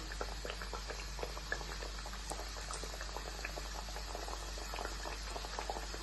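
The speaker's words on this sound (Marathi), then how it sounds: "मी तेल गरम करून घेतले आणि मंद गॅसवर तळायला ठेवलेले" Chandrakala sweets frying in hot oil over a low flame, a dense steady bubbling crackle with countless tiny pops, even and unbroken throughout.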